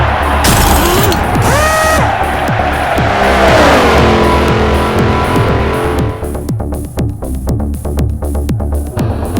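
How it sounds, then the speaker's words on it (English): A V8 Supercar in Forza Motorsport 4 loses control with loud engine roar and screeching tire squeal, then slams into the wall; engine notes keep revving afterward, close and loud. "He's out of control and into the wall."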